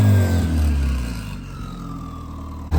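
Turbocharged Honda Civic engine revving while parked in a neighborhood, a loud deep throaty rev that eases back toward idle, close up and alone, ending with a sharp low blip.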